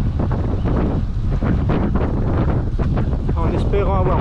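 Strong wind buffets the microphone of a cyclist riding a countryside road race, a loud, gusty, close rushing roar throughout, with a faint brief voice-like trace near the end.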